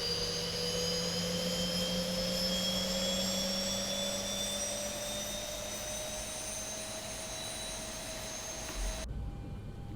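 Boeing 737-800 jet engine spinning up in the X-Plane 11 flight simulator, a steady whining turbine with tones climbing in pitch over roaring air, cut off abruptly near the end.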